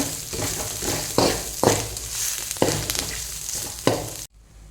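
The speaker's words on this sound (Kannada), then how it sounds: "ಇವಾಗ ಸ್ವಲ್ಪ ಕೊಬ್ಬರಿ ತುರಿ ತುರ್ಕೊಂಡು ಹಾಕ್ಕೊಳ್ಳಿ ಎಲ್ಲ ಫ್ರೈ ಮಾಡ್ಕೊಳ್ಳಿ ಚೆನ್ನಾಗಿ" Grated coconut fries in a pan with a steady close sizzle, broken by several sharp scraping stirs of a spoon through the mixture before the sound cuts off.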